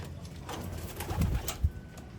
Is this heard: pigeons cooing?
yes